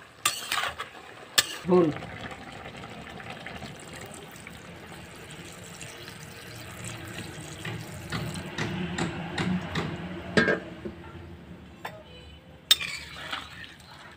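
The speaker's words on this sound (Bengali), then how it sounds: "এবার নাড়াচাড়া করে জল দেব।" A spoon scrapes and clinks against a pan while a mixed vegetable curry is stirred, with soft sizzling underneath, a few louder metallic knocks and a short spoken word partway through.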